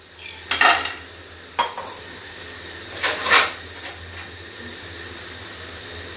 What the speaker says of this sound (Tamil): இப்போ முந்திரி போட்டுக்கலாம்.